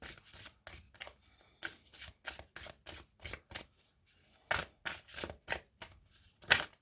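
Goddess oracle cards shuffled in a run of crisp, rapid riffling bursts, a dozen or so quick flutters separated by short pauses, close and fairly loud with no talk over them.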